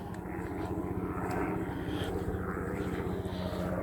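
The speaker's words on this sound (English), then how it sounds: "Unless that Coast Guard helicopter is trying to look for someone that's been killed." A Coast Guard helicopter drones overhead at a distance, a steady low rumbling engine and rotor hum over outdoor hillside ambience.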